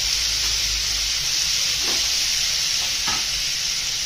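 Chopped cucumber sizzles steadily in a hot pan with spices for a Maharashtrian kakdichi bhaji, a continuous loud frying hiss with a couple of soft stirring scrapes near the middle and end.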